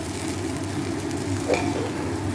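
Rice fries in oil inside a pressure cooker, giving a steady, even sizzle at close range with a brief louder crackle partway through.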